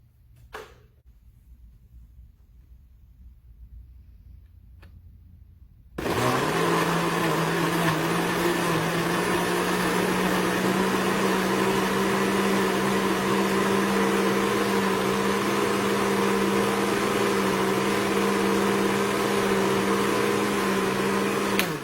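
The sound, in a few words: blending vegan chocolate milkshake ingredients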